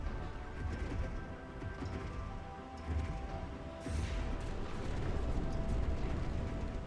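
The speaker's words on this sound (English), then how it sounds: "Firing off their energy torpedoes" Energy torpedoes fire during fleet combat in the space strategy game Stellaris, giving muffled rumbling blasts and mechanical clatter over a dense, continuous battle din.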